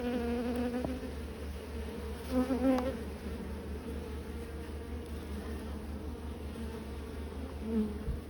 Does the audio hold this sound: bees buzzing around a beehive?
yes